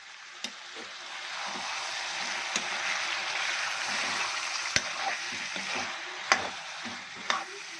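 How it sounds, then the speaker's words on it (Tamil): Country rooster chicken pepper fry being stirred in a pan, a soft steady sizzle broken by a few sharp scrapes and clinks of the spoon against the pan, close and fairly quiet with no voices. "நல்லா கொஞ்சம் கிளறி விட்டுக்கலாம்"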